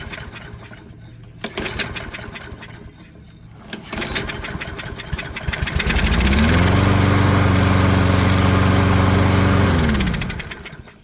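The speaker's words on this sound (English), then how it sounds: "I've got the mower outside here. We're going to see if it fires up." A small engine sputters and catches after a few pulls, then roars steadily at full throttle, loud and close, before cutting off at the end.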